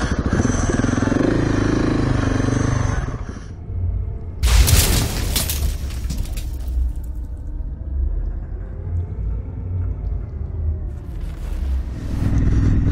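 Motorcycle engine running and riding, a loud close rumble with a sharp burst of noise partway through, then a steady drone that rises and falls like shifting revs.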